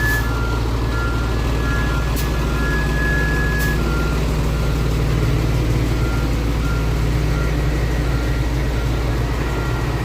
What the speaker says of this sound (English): Yeah, 2 of the fire engines are leaving.